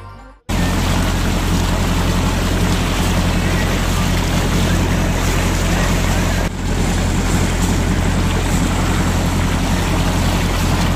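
A boat moving across water off the Bartın coast, Turkey, with a constant engine drone, splashing waves and wind buffeting the microphone throughout.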